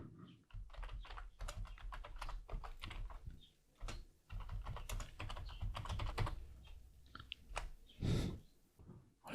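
Computer keyboard typing a terminal command on an Ubuntu server, a fast irregular stream of close clicky keystrokes with brief pauses, alone without speech.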